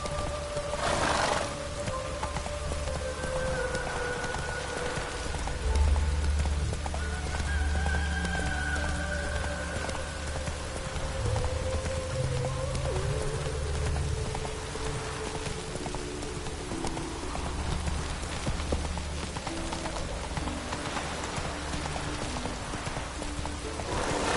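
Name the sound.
heavy rain in the video game The Witcher 3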